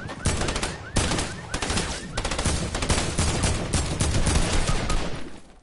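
Dense automatic AK rifle fire in a Fortnite match, loud and close, with rapid overlapping bursts and shots running almost continuously throughout.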